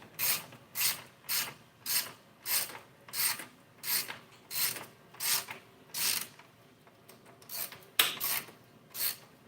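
A ratchet wrench loosens a 13 mm bolt on a Yamaha TW200 motorcycle engine, ticking in steady, evenly spaced close bursts, about a dozen strokes with a brief pause before the last few.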